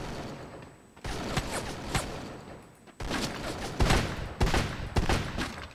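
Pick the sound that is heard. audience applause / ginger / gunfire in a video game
gunfire in a video game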